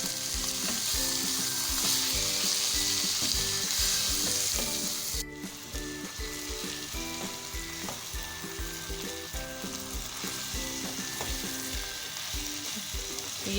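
Spices and vegetables, with salt and turmeric powder, sizzle steadily in a pan while being stirred for tinda sabzi; loud, continuous frying with scraping stir strokes, briefly dipping partway through, no talking.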